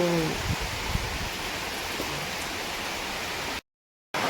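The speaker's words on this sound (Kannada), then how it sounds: "ಜೋರ್ ಮಳೆ ಬರ್ತಾ ಉಂಟು ಇದರ ಮೇಲೆ ಇದು ತಲ್ಪರ್ ಹಾಕಿದ್ದಾರೆ ಹಾಗೆ ಇಲ್ಲಿ ಶಬ್ದ ಜಾಸ್ತಿ ಆಗ್ತದೆ ಮಳೆ ಬರುವಾಗ" Heavy rain drums on a tarpaulin roof over a rented house, a dense even hiss held close and loud for several seconds before a sudden brief cut to silence near the end.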